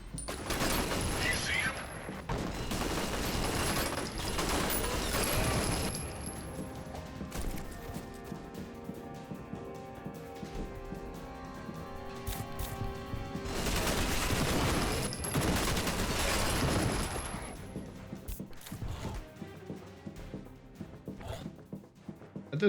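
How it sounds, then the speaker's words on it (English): Sustained rapid minigun fire in the first-person shooter F.E.A.R. Perseus Mandate, two long loud bursts separated by a quieter stretch of ringing and clatter, with a few sharper shots trailing off at the end. "a sniper is using a minigun"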